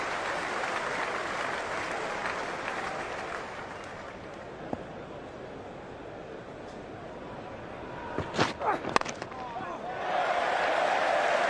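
A crowd at a cricket ground during the 2005 Ashes Test between England and Australia cheers and applauds after a boundary. The roar is broad and distant, swelling toward the end, with commentary talk over it.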